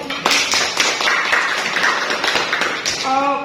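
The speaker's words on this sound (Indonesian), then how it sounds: "aplaus untuk kita semua" A classroom group claps together in sustained, fairly loud applause for a few seconds, with voices mixed in and a musical chime at the end.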